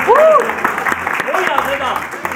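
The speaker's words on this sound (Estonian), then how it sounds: "Teeme veel ühe aplausi" A studio audience claps briefly on the Estonian TV quiz show Kuldvillak, a Jeopardy-style game. The applause is short and moderately loud, and a host speaks over it.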